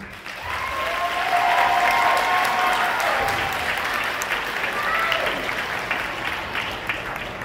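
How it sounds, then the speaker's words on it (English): Sustained applause from a large crowd at a beginning band students' concert, steady and loud throughout, with a few faint voices mixed into the clapping. "Round of applause, please."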